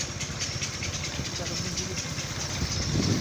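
A motorbike rides a rough dirt track through rural paddy and sugarcane fields, its engine a steady, close, pulsing mid-range drone that grows slightly louder at the end, with faint voices in the background.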